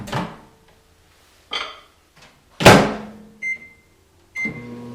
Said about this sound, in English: Let's heat this in microwave first.